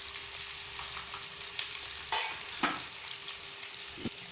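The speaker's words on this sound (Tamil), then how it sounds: "எண்ணெயில் கருவாடு நல்லா வணங்கணும்" Dried fish sizzles steadily in hot oil with mustard seeds, curry leaves, turmeric and rock salt for a kolli karuvadu kulambu, a soft continuous crackle broken by a few clicks of stirring.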